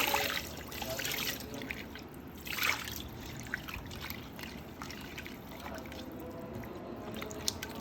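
Water trickles and pours steadily into a pot of split chickpea lentils, a soft, continuous stream with occasional drips, recorded fairly close in a quiet kitchen.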